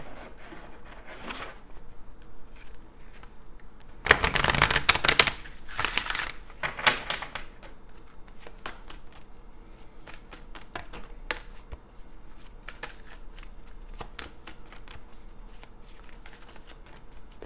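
Cards from a Keepers of the Light Oracle deck are shuffled in a quiet room. Soft ticks and taps give way to a short burst of riffling, then scattered light card clicks, close and gentle, with no voices.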